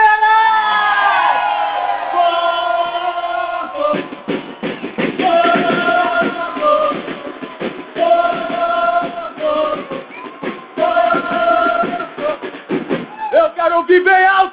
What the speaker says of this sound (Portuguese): Eu quero ouvir a torcida do Palmeiras!